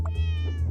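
A cartoon cat meows once in the puzzle game Cats Organized Neatly, a short, bright, close meow heard alone over a steady low hum.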